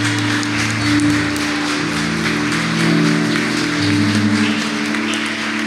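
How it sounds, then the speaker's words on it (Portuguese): A church congregation at a Christmas cantata applauding in a steady, dense wash of clapping that holds for several seconds over a low sustained tone. "Se você concorda, aplauda o santo nome do Senhor Jesus."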